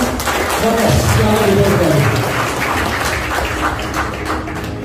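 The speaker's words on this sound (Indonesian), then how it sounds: "tepuk tangan buat peraih" An audience at a motivational business seminar gives sustained, dense applause, loud and close, with some voices mixed in among the clapping.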